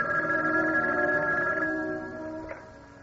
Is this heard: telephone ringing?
yes